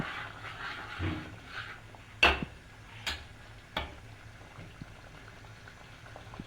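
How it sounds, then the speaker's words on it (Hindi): A mattha buttermilk mixture just beginning to boil in a pan gives soft, faint bubbling, broken by a few sparse sharp pops and ticks. "तो अब देखिए इसमें हल्का हल्का सा खौल आने लगा"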